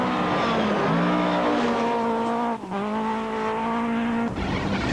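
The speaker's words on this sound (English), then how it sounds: "On board with Habig, who senses a victory and is every bit as determined as Damso, and takes another second out of the Toyota's lead" Loud onboard engine of a Volkswagen Golf rally car at full throttle on a stage, revs climbing steadily through the gears with brief dips at each gearchange, continuous and close.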